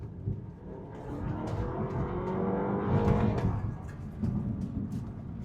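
A 2013 BMW F30 320i with a TwinPower Turbo engine accelerates hard on kick-down in Sport mode. A rising engine drone builds steadily toward a peak, then eases while the car keeps pulling, heard from inside the cabin.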